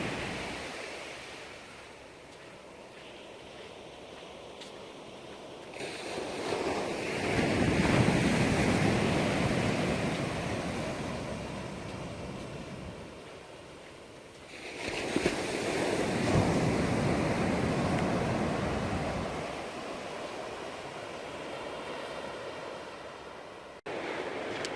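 Ocean waves washing onto a beach on the West Coast Trail. Two long surges of surf rise and roar before fading back to a softer wash, with wind buffeting the microphone throughout.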